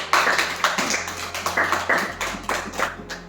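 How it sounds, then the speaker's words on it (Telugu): An audience claps along at a Telugu Christian sermon, a steady patter of many hands that stays moderately loud and fairly even, with a low hum underneath and no speech. "నీ మాటకి చప్పట్లు కొట్టు"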